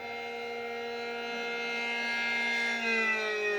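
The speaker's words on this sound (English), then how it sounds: "Here's the creepy siren." A tornado warning siren wails steadily outdoors at moderate distance, a sustained rising and falling tone with no voices over it.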